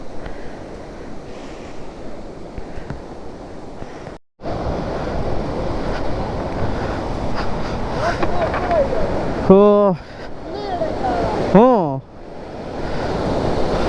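Rushing, forceful river water near Surlabi Falls in Sakaleshpura during the monsoon, a steady loud broadband roar filling the whole clip with wind buffeting, while people talk over it.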